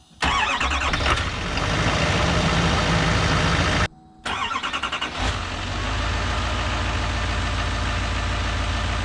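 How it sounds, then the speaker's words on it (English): A Chevy Silverado Duramax diesel pickup cold-starts with a cranking burst, cuts out briefly, then catches and settles into a loud, steady rattling diesel idle. "the Silverado came on"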